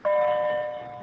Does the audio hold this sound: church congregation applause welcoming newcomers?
no